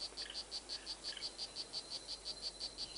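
Frogs in a jungle canopy call in a fast, regular pulsing chirp, repeating about every quarter second, faint and steady against a quiet background.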